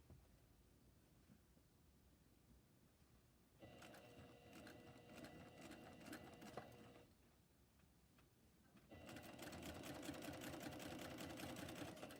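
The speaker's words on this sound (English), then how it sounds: "We have to curve the fabric as the machine stitches." A sewing machine stitches a curved fabric seam for a shirt, running in two loud mechanical bursts of rapid ticking and whirring separated by quieter pauses, with no voices over it.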